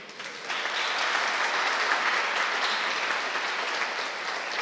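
A crowd claps steadily, a dense and sustained round of applause that swells after a moment and holds at full strength.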